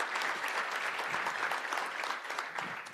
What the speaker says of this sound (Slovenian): Aplavz si zaslužita 2 dami